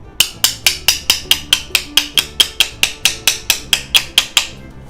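Sharp, evenly spaced hammer blows drive a chipbreaker blade into a traditional Korean wooden hand plane, about seventeen ringing strikes close up in a steady rhythm, each with a bright metallic attack and quick decay.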